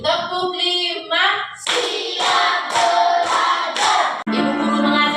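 Children and teacher in an elementary school classroom clap in a counted sequence, a run of crisp claps following a chanted voice, then a voice resumes at the end; close and steady in level.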